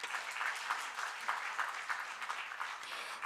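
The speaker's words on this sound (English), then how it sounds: "Let's give another big round of applause." Conference audience applauding after a presentation, a short stretch of steady, moderately quiet clapping from a seated crowd in a room.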